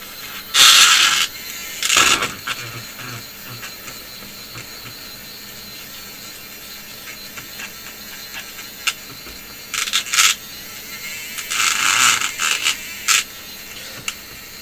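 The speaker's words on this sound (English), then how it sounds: "is my paint whisk for new paint" A paint whisk spinning in a pot of new paint, a loud whirring buzz in short bursts with pauses between, close and without talk.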